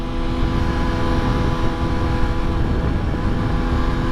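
A Yamaha R6 sport bike, recently repaired after a crash and running with bent handlebars, is ridden at speed, a constant loud engine drone mixed with heavy wind rush.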